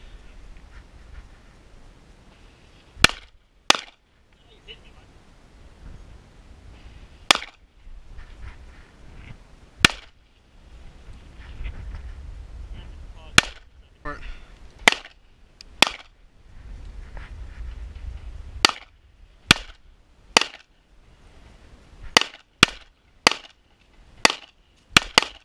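Remington R1 and Ruger SR 1911 pistols fired on an outdoor shooting range, sharp loud reports spaced irregularly, some in quick clusters, with quiet shuffling and wind between shots.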